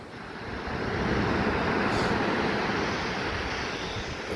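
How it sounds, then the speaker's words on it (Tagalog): Ocean waves wash onto a beach in a steady, full roar of surf with no talking, swelling slightly after the first second and holding loud and close throughout. "Alon."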